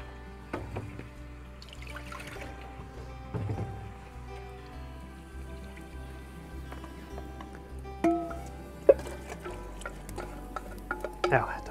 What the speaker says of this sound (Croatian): Dodat ću malo vode da isperem ovo, tako da sve začine uzmem.